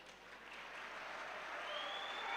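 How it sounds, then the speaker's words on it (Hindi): Audience applause at an all-India Hindi poetry gathering, a soft, continuous wash of clapping heard from a distance that slowly swells toward the end. "तालियां बहुत अच्छी बजा रहे हैं"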